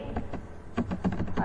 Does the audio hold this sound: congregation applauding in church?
no